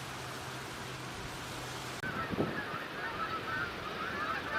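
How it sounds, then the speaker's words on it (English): Canada geese honk repeatedly in the distance over steady high wind noise, struggling to keep formation in flight, their calls overlapping in a loose, ongoing chorus. "The winds are so high that the Canada geese commuting back and forth are having trouble keeping formation."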